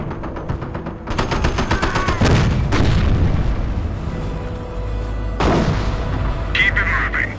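Rapid machine-gun bursts and heavy booms from a Normandy battle in the World War II strategy game Company of Heroes, loud and close, with dense sustained firing and explosions throughout.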